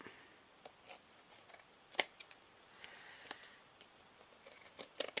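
Scissors snip and trim material for a vintage plaque or book cover, a series of crisp, close cuts spaced irregularly, with a sharper snip now and then and no talking.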